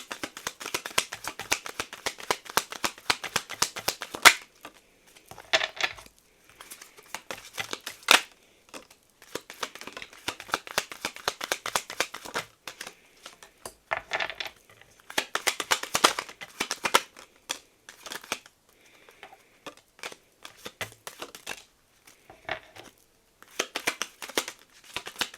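Oracle cards shuffled by hand at a reading table, a dense run of crisp riffling and slapping bursts with short pauses between, close and alone with no voice.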